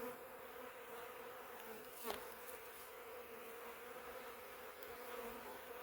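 Steady, soft insect buzzing hums throughout with a brief louder pass near the middle, like bees swarming close around a hive.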